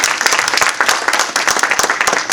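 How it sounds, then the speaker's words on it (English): Audience at a spring book conference breaks into lively clapping, a dense, close, steady round of applause lasting a couple of seconds with no speech over it. "Everybody give her a big round of applause."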